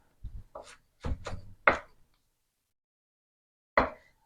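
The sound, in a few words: knife chopping onion and celery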